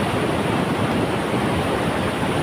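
Ocean waves at Pangasan beach in Pacitan, East Java, a steady, loud, close wash of surf roaring without a break and with no voices.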